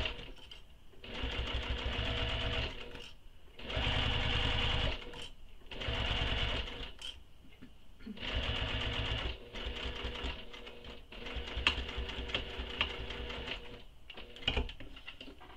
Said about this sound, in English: You'll sew this with the seam allowance given in the pattern. And just sew all the way down.